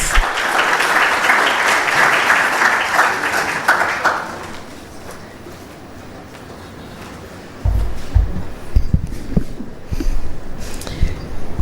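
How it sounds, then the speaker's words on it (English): An audience at a university lecture applauds steadily for about four seconds, then the clapping dies away into room noise with a few thumps and shuffles near the microphone. "Please, a round of applause as she comes"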